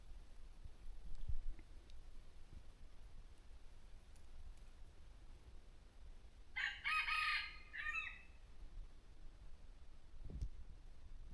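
A jungle fowl crows once, a loud, clear call of about a second and a half standing out against a quiet outdoor background, with faint rustles and a low thump afterward.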